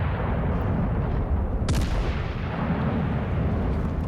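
Warship HE guns fire in the World of Warships Legends naval combat game, a booming salvo bursting out over a constant low rumbling battle ambience, with heavy muffled thuds throughout.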